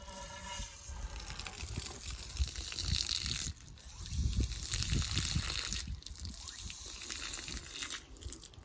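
Water gushing through a homemade nozzle flush tool into a Suburban RV water heater tank, a close, continuous splashing rush with surging and crackling bursts and brief drops in flow.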